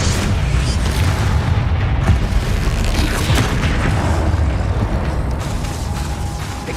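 Spell explosions in the Hogwarts Legacy video game, including Bombarda and Confringo blasts against a troll, merge into a loud, continuous rumbling roar of booms and bursts lasting several seconds.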